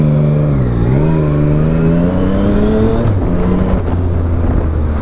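A Yamaha MT-09 900cc three-cylinder motorcycle is ridden along a road, its loud, close engine climbing in pitch, dipping, then pulling again as it shifts through gears, with no talking.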